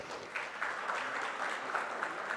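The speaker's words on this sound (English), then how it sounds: "A loud round of applause" Applause from a conference audience at a bioenergy summit session, a steady moderate wash of clapping lasting a couple of seconds with faint background voices.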